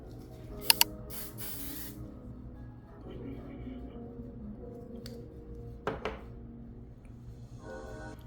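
Makeup setting spray hisses in two quick, close bursts early on, then a faint click or clatter follows later over quiet room tone.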